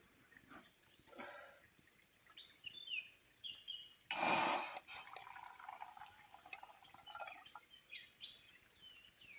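Water poured into a cooking pot outdoors at a day camp beneath a large tree, a brief loud gush in the middle of the clip, with birdsong chirping throughout and soft drips around it.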